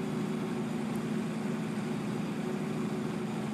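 Tractor engine in Farming Simulator 2013 droning at a steady low idle, a constant even hum with no change in pitch and no voices.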